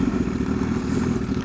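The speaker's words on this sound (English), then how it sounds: "The Tochi exhaust sounds incredible." A 2012 Honda CBR1000RR sport bike fitted with a Tochi exhaust, its engine running in a steady, loud, close rumble with no talking.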